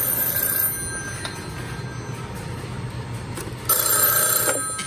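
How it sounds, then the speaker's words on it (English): An old telephone bell rings loudly near the end, in a workshop with a 1XB crossbar telephone switch that hums and clatters steadily throughout, with a fainter ring earlier. "The phone's ringing."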